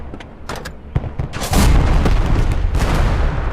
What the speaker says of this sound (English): Someone keeps, like, throwing a grenade at me or something.